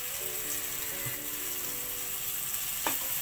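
Dal frying and sautéing in a hot pan with masala, chilli powder and turmeric, a steady close sizzle running throughout, with a couple of faint clinks from stirring.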